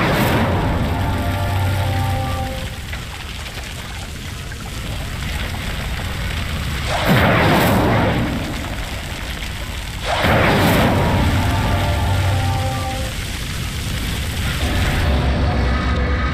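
Two surging whooshes of flame roar up from an Incendio spell lighting pyres in Hogwarts Legacy, rising out of a steady crackling, rain-like bed of fire and ambience.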